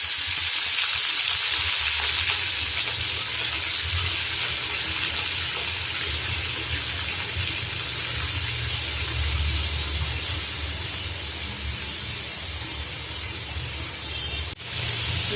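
Steady, fairly loud sizzling hiss of chopped banana stem frying in hot tempering oil, continuous and unbroken with no voices.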